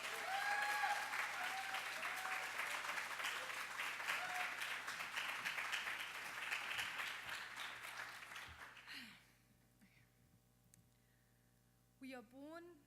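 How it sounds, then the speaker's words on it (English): Audience applause for a poet at a poetry slam, loud, dense and sustained for about nine seconds with some whoops, then fading to near silence, with a brief burst of sound near the end. "so big round of applause for the world traveler, Orin Begum"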